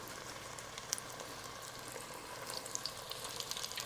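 Amberjack fish pieces frying in hot oil at home for a gluten-free fish fry, producing a quiet, steady bubbling sizzle with scattered small pops and crackles, heard alone without speech.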